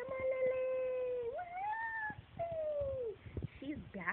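A Maine Coon cat playing fetch gives a long, drawn-out meow that rises and bends in pitch, then shorter meows and chirps, loud and close, with some background noise.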